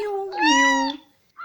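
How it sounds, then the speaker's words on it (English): A cat lets out one clear, drawn-out meow, loud and close, followed by a brief pause and the start of a second short mew. "Cat sound is mew mew."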